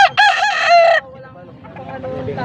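A rooster crows once, loud and close at a rooster auction in Pampanga, Philippines, a harsh drawn-out call lasting about a second, followed by quieter background sounds.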